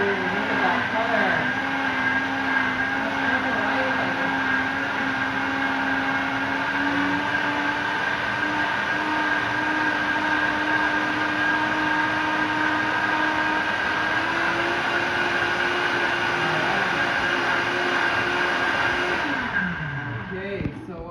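Blender running steadily for about twenty seconds while pureeing a blueberry smoothie with almond milk, a loud continuous motor whine with a slowly shifting pitch, cutting off near the end.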